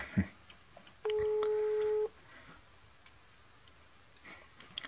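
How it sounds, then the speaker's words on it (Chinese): A telephone being dialled gives a short series of faint beeps, then a single steady electronic tone sounds for about a second before quieter background noise returns. "我现在打个电话哈"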